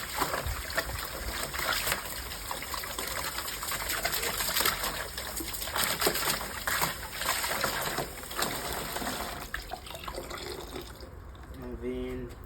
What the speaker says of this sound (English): I'll just put some water in. I'll rinse the sides for any residue that is on the side.